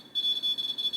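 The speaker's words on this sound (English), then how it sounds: "can you make it beep 3 times?" Electronic beeps from a paranormal investigation device in a haunted horror museum, a high steady tone pulsing in short repeated bursts, roughly three quick beeps and more, clear and close with no talking.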